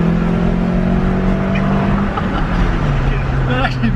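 A Toyota Starlet with a 4E-FE engine runs without nitrous, its steady engine drone close and loud from inside the car, with people talking over it.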